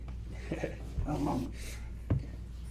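A shop dog trying to play makes short whimpering yips and huffs in a work shop, heard close by, with two soft thuds among the sounds over a low steady hum.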